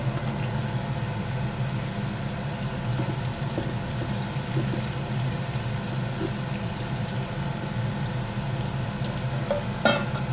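Chinese pork and vegetables stir-frying in a wok with a steady, continuous sizzle and occasional light clinks of stirring, heard close and alone without talk.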